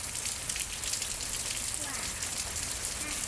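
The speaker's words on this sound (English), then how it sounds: "It is pouring rain." Heavy pouring rain falls during a thunderstorm, a dense, steady broadband hiss and patter that holds at an even loudness throughout, with no thunder clearly audible.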